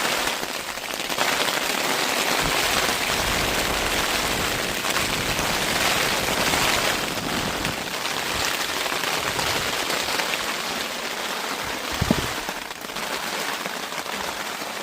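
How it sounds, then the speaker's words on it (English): Rain drums steadily on a small tarp over a homemade deer stand, a dense, loud, continuous patter with one sharper tap near the end and no voices. "Went from 105 to rain, and all I have on top is this little tarp."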